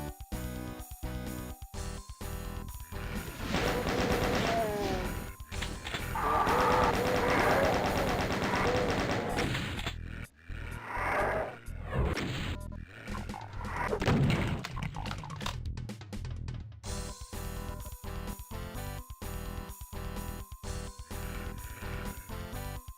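Chaingunner enemies firing chainguns in Doom, rapid repeated gunfire bursts at middling distance over a constant game soundtrack, with someone talking at times.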